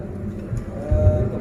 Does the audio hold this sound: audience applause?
no